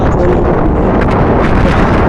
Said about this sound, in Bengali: কি পরিমাণ যে বাতাস বয়ে যাচ্ছে তা ওই পানি দেখলে বোঝা যাচ্ছে